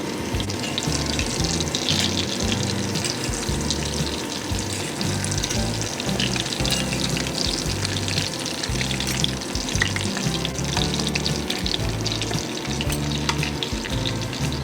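Chicken schnitzel cooking in an ActiFry with olive oil and salt, a continuous dense frying hiss with rhythmic stirring rumble running steadily throughout.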